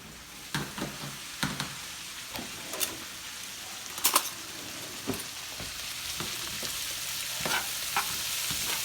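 Cabbage frying with bacon in a pan is stirred with irregular scraping and knocking strokes, some sharper than others, over a soft, steady sizzle that stays fairly quiet throughout.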